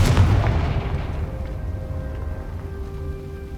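A Confringo blast spell bursts in Hogwarts Legacy with a single heavy, booming explosion up front, then a long rumbling decay fading out over several seconds.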